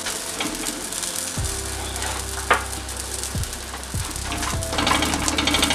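Small Moroccan malawi flatbreads fry in a pan, four to a batch, with a steady bright sizzle of hot oil, joined by a few soft knocks and scrapes from handling the pan.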